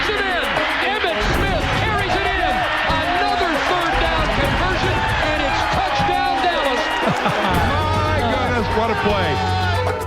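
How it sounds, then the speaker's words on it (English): A football stadium crowd roars and cheers during a Dallas Cowboys game, a steady loud wall of voices and whoops, while a commentator talks over it throughout. "Crowd is really into it."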